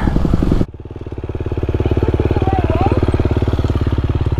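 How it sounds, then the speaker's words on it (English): Honda CRF 250RX dirt bike engine running close and loud, a steady rapid throbbing idle that follows a brief burst of louder noise at the start. "today I'm riding the Honda CRF 250RX"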